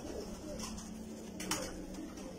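Pigeons on a rooftop coo softly and steadily, with faint bird calls over a constant background hiss.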